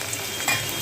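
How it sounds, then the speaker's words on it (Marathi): Onions frying in hot oil with garlic for a tempering, a steady soft sizzle running through the short moment with a slight swell midway, close and fairly quiet. "तेलामध्ये फ्राय करा कांद्याला."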